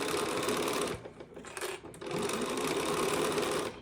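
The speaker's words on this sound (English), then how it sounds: "put my presser foot down, stitch, back stitch, and I'm gonna stitch all the way down" Sewing machine running a steady stitch along a quilt seam, with a brief back stitch, close and loud, pausing for about a second before stitching on continuously.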